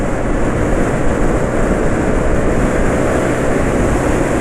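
A STIHL chainsaw engine screams at full throttle, a loud, dense and unbroken high-revving drone held close for the whole stretch.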